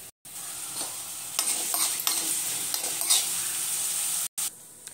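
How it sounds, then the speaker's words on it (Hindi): Sliced onions sizzle and fry in hot oil in a pan for a water chestnut peel curry, a loud steady crackle interrupted twice by brief breaks, with a few stirring scrapes; no one speaks. "तेल गर्म हो चुका। आप इसमें हम प्याज डालेंगे"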